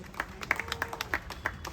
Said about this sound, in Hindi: तालियां बजाते रहिए, अच्छा लगेगा।